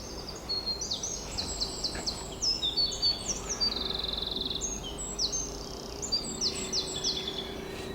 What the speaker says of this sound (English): Glorious to hear all the birds.